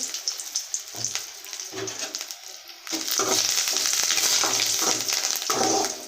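Curry leaves and a little turmeric frying in a pan, with bursts of sizzle that start and stop at first and then settle into a steady, close crackle.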